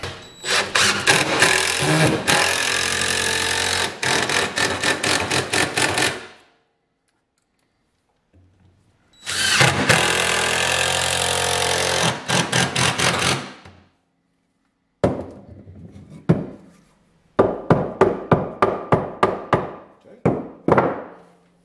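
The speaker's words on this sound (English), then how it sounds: "Put these screws in on an angle, hoping that it squeezes the board together." Screws driven at an angle into a wooden board for a firewood handle on a BBQ grill, long loud whirring bursts from a power driver with pauses between, then shorter stuttering pulses as each screw seats.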